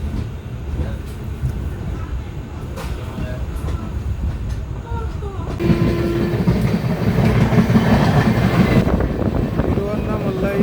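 An Indian express train runs along with a constant rumble and clatter from inside, swelling louder midway as it overtakes another express, with a voice speaking over the noise.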